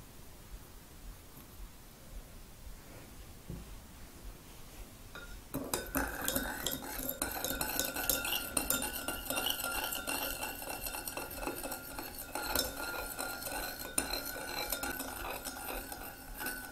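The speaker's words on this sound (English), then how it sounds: "we stir this until all of the crystals have dissolved" Pectinase, citric acid and yeast nutrient are stirred in a measuring jug for fruit-juice wine, a quiet start giving way to continuous close scraping and clinking of a spoon against the jug.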